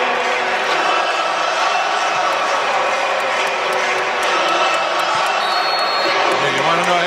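Home crowd cheering inside an NC State basketball arena during a game against North Carolina, a dense, steady roar that fills the whole stretch with no break, loud and continuous.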